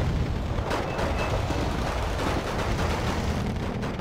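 Artillery fire in the Wargame Red Dragon real-time strategy game, heard as a continuous loud rumble of distant blasts and booms layered over one another with no clear pauses.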